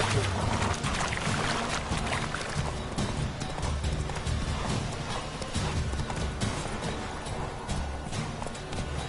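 Roach the horse gallops in The Witcher 3 video game, a steady drumming clip-clop of hooves carried continuously and loudly under dense game music and ambience, with no voices.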